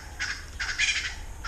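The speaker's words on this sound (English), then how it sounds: "As you can hear, they also have a lot of wild birds around" Wild birds calling around a game lodge in Omaruru, Namibia, with two or three loud, harsh bursts of fowl-like gobbling calls rising over a steady outdoor background, close and clear, with no talking.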